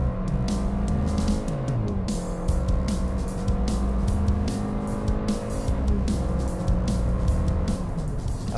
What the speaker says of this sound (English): fully depressing the accelerator pedal only gives satisfactory acceleration